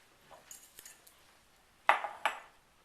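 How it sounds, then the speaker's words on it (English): A whisk stirring flour, spices, salt and baking soda in a bowl: light, sparse metallic ticks at first, then two sharper clattering clinks of wire against the bowl before it fades. "I'm going to start by stirring all of my dry ingredients together with a whisk."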